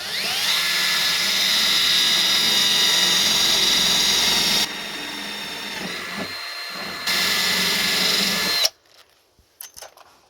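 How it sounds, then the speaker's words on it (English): A power drill whines steadily while boring pilot holes into the metal lid of an Astro van limo under body work, loud and close for about eight seconds with a brief easing midway, then cutting off to near silence with a few small knocks. "I'm going to put some pilot holes in there, at least in the lid itself."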